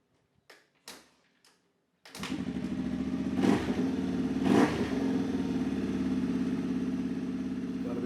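A barn-find Yamaha AG motorcycle with a freshly cleaned carburettor, a few dull knocks and then the engine firing, settling into a loud steady idle with two short rising revs, heard close.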